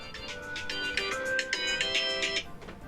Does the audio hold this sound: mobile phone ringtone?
yes